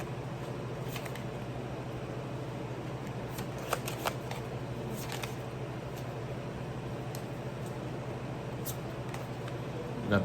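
Tarot cards shuffled steadily for about ten seconds, a continuous soft riffling texture close by with a few sharper card snaps, over a faint steady background hum, with no talking.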